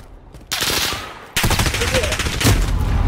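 Shotgun fire in Call of Duty Modern Warfare online play, loud close blasts at two abrupt onsets followed by dense rattling gunfire and explosions, with faint voices underneath.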